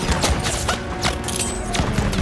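Dense gunfire in a Call of Duty WWII campaign battle, a continuous loud fusillade of rapid overlapping shots with sharp cracks and booms throughout, close and steady.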